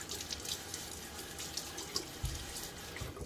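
Cool water runs from a tap into a sink before a wet shave, a close, steady hiss and splash with small irregular splatters and no talking.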